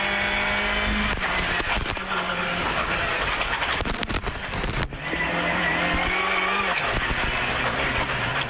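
Rally car racing flat out on a stage near Antibes, engine roaring loud and close with gear changes, tyres squealing and skidding through corners, a brief dip midway before the engine pulls hard again.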